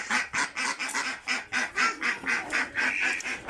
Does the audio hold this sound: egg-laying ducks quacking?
yes